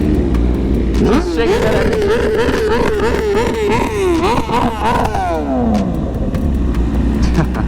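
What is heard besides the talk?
cars revving engines at underground car meet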